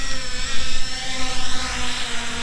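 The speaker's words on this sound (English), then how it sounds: "if I turn on the blades, I tell it to take off" A HolyStone HS720G drone's propellers spin up for takeoff, a loud, steady, high-pitched whirring buzz that holds throughout with a slight wavering.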